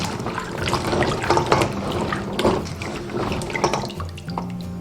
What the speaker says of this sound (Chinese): 还要用清水给它淘洗干净